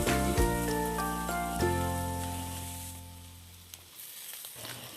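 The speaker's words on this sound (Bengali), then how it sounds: "এবার আমি এর মধ্যে পেঁয়াজের কুচিগুলো দিয়ে ভালো করে ভেজে নেব" Chopped onions and garlic fry in a pan, a continuous close sizzling hiss beneath a droning tonal hum that fades slowly.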